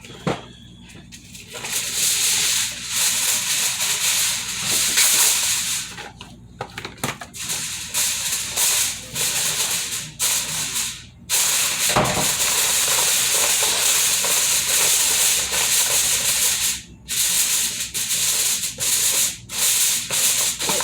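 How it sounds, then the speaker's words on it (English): Aluminum foil crinkles and rustles continuously as it is pulled over and pressed around a baking dish of steak with gravy, baked potatoes, onions and peppers, close and fairly loud with brief pauses. "you get your aluminum foil and you cover it"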